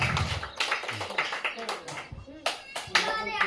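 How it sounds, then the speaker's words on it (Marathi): Children clapping their hands during an educational running game, uneven bursts of claps from a small group amid excited kids' voices and shouts, close and lively with irregular rhythm. "टाळ्या वाजवा रे"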